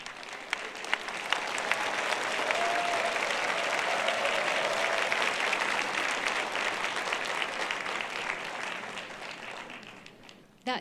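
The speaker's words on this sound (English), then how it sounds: "Please give the passionate three speakers a big round of applause as they return to their seats." A conference audience at an international women's peace conference gives a long round of applause for returning speakers, steady dense clapping across the room that tapers off at the end.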